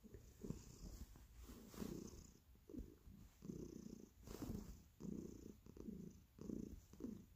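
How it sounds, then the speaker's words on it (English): Soft, steady cat purring up close, rising and falling in a slow rhythm of breaths, with no other sounds. "over here purring"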